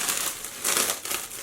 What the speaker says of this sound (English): And then unwrap his yarn.